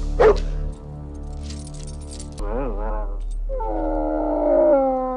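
A dog yelps once, then lets out a wavering, drawn-out howl that swells louder near the end, heard close and clear.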